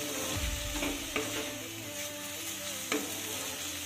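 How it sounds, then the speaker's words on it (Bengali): Red amaranth greens with ginger stir-fry in a pan, giving a steady sizzle broken by a few sharp scrapes and clinks of a spatula, close and without talk. "এবার আমি নেড়ে চেড়ে আরও একটু ভাজা ভাজা করে নেব।"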